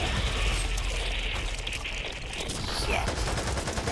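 Bursts of rapid gunfire from the zombie shooter game Back 4 Blood crackle almost without a break, loud and dense, mixed with some voice chatter.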